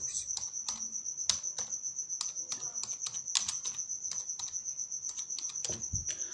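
Text being typed on a computer keyboard while working in CorelDRAW: a steady run of close, crisp key clicks with a few louder taps, over a constant high insect-like whine.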